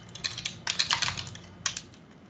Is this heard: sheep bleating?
no